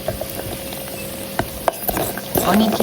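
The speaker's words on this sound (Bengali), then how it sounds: "নাড়াচাড়া করে সুন্দর করে ভেজে নেব।" Homemade onion bori lentil dumplings sizzle in hot oil in a pan, with a steady frying hiss broken by scattered scraping and stirring clatter close by.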